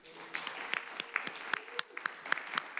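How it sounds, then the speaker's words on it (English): Scattered, sparse hand claps from a small audience at a city council meeting, a dozen or so distinct sharp claps at uneven intervals over a faint murmur. "I just want everybody to clap their hands and welcome Matthew Chittister."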